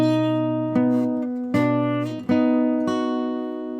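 Single measure of a song fingerpicked on acoustic guitar, a few sustained plucked notes and bass strikes ringing out slowly and close up.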